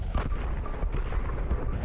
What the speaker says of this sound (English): Double nade in the pit